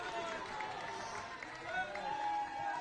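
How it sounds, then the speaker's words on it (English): Women's football crowd at the IBSA World Games in Birmingham, German supporters making noise after a shootout victory: a steady, distant wash of cheering and chatter throughout, with no distinct voices standing out. "The German fans making some noise in the crowd as well, showing their appreciation for their side"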